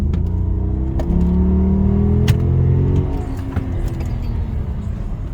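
A Mercedes S500 with a 388 hp replacement engine revs up and accelerates with a deep, rising rumble, loud and close, settling into a steady drone after a few seconds.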